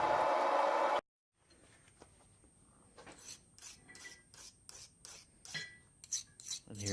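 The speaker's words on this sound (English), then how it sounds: "you can hear this file skating off the blade" A metal file skates across a hardened steel knife blade after quenching, giving a row of short, bright rasping strokes in an irregular rhythm, close and fairly faint, following a brief burst of noise and a moment of silence.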